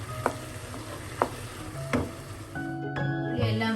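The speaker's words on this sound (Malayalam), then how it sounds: "എല്ലാം കൊണ്ടും കൂടെ വഴലട്ടെ." Onions sautéing in a pan for a creamy handi chicken curry, a close, steady sizzle punctuated by a few distinct spatula scrapes and stirs, no talking.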